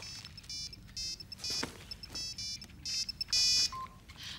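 A mobile phone rings with a repeating electronic ringtone, short bright melodic bursts pulsing in a regular pattern at moderate, slightly distant volume.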